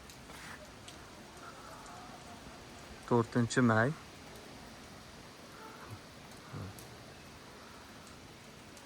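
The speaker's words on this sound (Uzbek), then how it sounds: "Bu yoqda quyosh, bu yoqda yomg'ir yog'ib yotibdi." Rain falls outdoors at a dacha in Yusufxona, Bostanliq district, Tashkent region, a soft steady hiss of drops running the whole time while a person speaks briefly midway.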